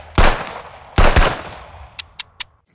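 Gunshot sound effects from a film sound-effects gun bundle: two loud, close booming shots about a second apart, each with a short rolling tail, followed by three quick, sharp cracks with no voices.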